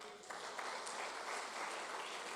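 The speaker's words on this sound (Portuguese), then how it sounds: "As palmas para Ele." A church congregation bursts into sustained applause, a dense wash of clapping that starts abruptly and holds steady, heard faintly at a distance.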